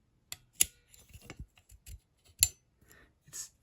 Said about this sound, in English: It's scraping and there's a lot of friction between these plates.